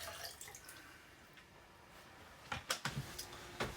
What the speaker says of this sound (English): And pour some down into the bathroom sink.